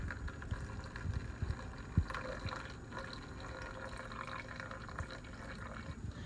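Liquid dribbling and splashing from a silicone anti-spill spout fitted on a pot, a faint continuous wet trickle with a few soft drips and a single sharper tap.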